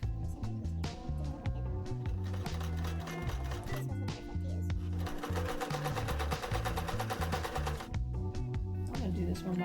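A sewing machine runs while a sweater is sewn, its needle clattering in fast rhythmic bursts with short pauses between runs and a busier stretch near the middle, close and clear.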